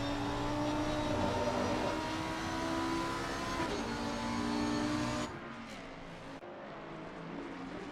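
Lamborghini race car lapping at Bathurst, a loud steady engine roar at high revs for several seconds, then a sudden drop as it lifts and brakes, with faint gear-change pops afterward.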